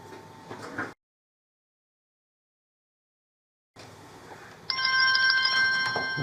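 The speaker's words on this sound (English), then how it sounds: "I'm just going to try and ring my phone. I'll turn the volume down on my phone and see what happens when I ring my phone number." A MindKoo GT88 waterproof smart watch rings for an incoming phone call, a steady electronic ringtone with layered tonal beeps starting after a silent gap and continuing loudly over background room noise.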